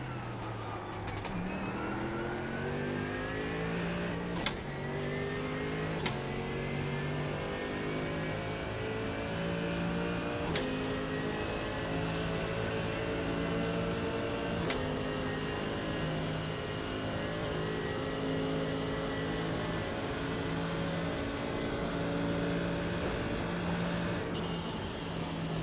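A Porsche GT3 race car in an iRacing sim race at Bathurst's mountain circuit howls at high revs. Sharp gear shifts punctuate a continuous loud engine drone, with rising and falling pitch as it passes.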